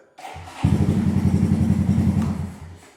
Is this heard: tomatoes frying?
no